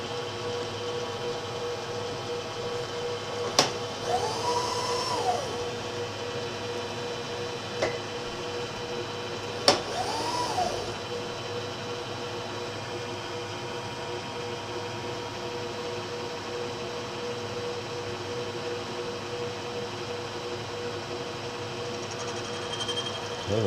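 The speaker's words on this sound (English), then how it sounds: "Got it running backwards so it turns into the cutter." A South Bend 13-inch lathe runs backwards while a cutter skims its spindle, a steady mechanical hum and drone with a few faint ticks and clicks, continuous and unbroken by talk.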